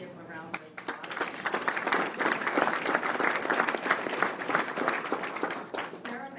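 An audience at an evening event gives a steady round of applause for an executive committee, dense, sustained clapping rising and holding before easing slightly.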